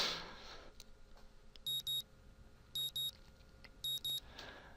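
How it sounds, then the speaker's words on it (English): A morning alarm clock in the visual novel Katawa Shoujo goes off as three paired bursts of high electronic beeping, evenly spaced over a quiet background. "My morning alarm goes off"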